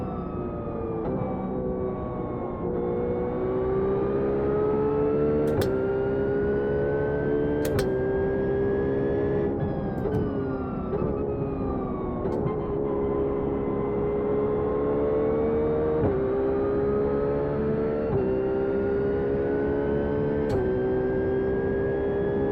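A GT race car engine in iRacing on a warm-up lap at Watkins Glen International drones steadily and loudly, its pitch climbing slowly and dropping back at a few gear changes.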